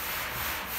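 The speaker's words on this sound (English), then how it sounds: "So the reason I'm sanding is from the sandblasting to remove all the paint." Sanding by hand on rough, rusty sandblasted metal on a horse trailer being converted, a brief, steady, close scratchy rubbing.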